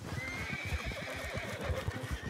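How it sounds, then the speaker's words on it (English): Horses whinny and neigh in Red Dead Redemption 2, with a wavering, drawn-out cry over a steady run of hoof clops and low thumps; the sound is moderately close and continuous, with no talk over it. "These horses are going to blow my cover, aren't they?"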